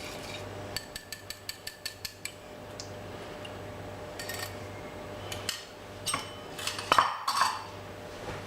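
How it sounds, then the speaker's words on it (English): Eggs and sugar whisked in a bowl for chocolate chip cookie dough: a quick run of sharp metallic clinks against the bowl, then softer scraping and stirring strokes, close and fairly quiet, with no talking. "add that to the eggs, and just whisk them together."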